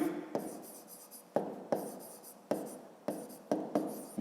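A pen scratches out numbers in a fifth-grade math exercise, a series of short sharp strokes in irregular rhythm, close and clear, with no talking.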